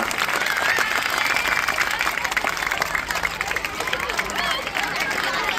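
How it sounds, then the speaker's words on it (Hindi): Students and guests at a school prize distribution ceremony clap in a dense, steady round of applause mixed with crowd murmur, close and continuous throughout. "जरा जोरदार तालियां बजाइए बेटा।"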